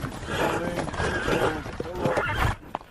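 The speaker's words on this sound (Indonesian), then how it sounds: "sampai akhirnya mereka didatangi oleh pasukan berkuda" A troop of riders arriving on horseback, with horses neighing and whinnying loudly over the clatter of hooves, continuous and close, fading near the end.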